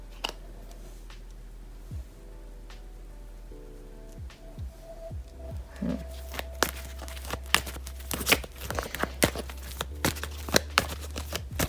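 Tarot cards are shuffled for a reading, a soft riffling and papery slapping that builds into a busy run of crisp flicks over a low steady hum.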